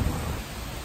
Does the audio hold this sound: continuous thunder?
yes